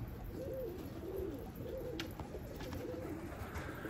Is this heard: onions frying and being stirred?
no